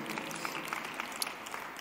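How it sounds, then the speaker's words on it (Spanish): A church congregation claps steadily for a couple of seconds, a dense patter of many hands with no voices over it. "Damos un aplauso a Dios."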